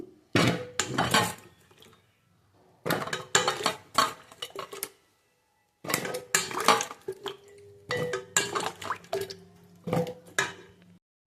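Washed taro pieces scooped with a utensil into a cooking pot make bursts of clattering, scraping and clinking with wet knocks, separated by short silent pauses, close and fairly quiet, with no talking.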